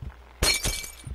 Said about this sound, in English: Oh, glass break.